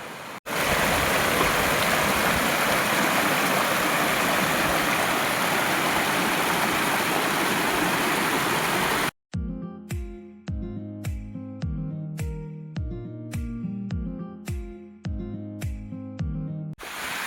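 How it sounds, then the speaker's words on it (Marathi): Steady, loud rushing of a small waterfall and a clear flowing stream in the Sahyadri hills, a dense continuous wash of water noise heard up close for most of the stretch, followed by a different rhythmic sequence of tones. "ते बघा तिकडं धबधबा आहे छोटंसं"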